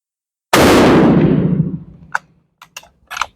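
An Enfield No. 5 rifle fires a reloaded round in one loud, close report that rings out and decays over about a second, followed by several short mechanical clicks and clacks.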